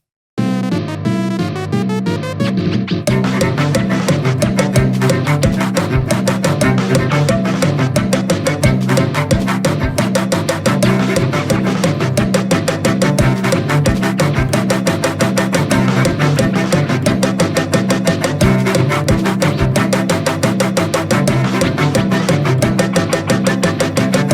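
Dense, busy electronic music from the video game Splatoon 3 plays continuously at full volume, with rapid layered notes and a driving beat that shifts in uneven groupings.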